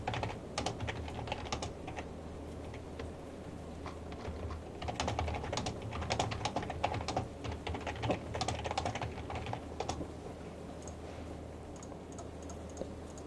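Steady computer-keyboard typing of a chat message during a modded Minecraft session, dense rapid key clicks running continuously over a low background hum, close and moderately loud.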